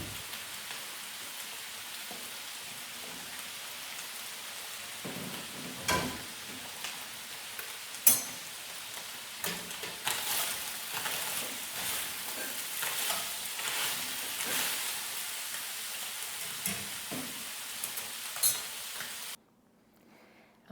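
Ground beef fries in a pan, giving a steady crackling sizzle with occasional louder pops and stirring scrapes, ending in a sudden near-silence when the sound cuts off.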